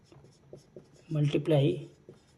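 Chalk or marker writing on a board during a maths lesson, a short burst of scratchy strokes following a man's speech that comes before.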